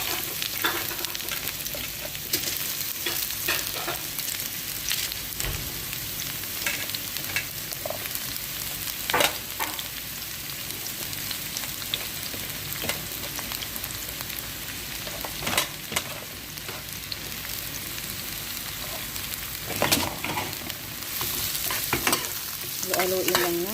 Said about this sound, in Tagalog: Haluin lang natin guys hanggang sa mag-brown konti yung sibuyas.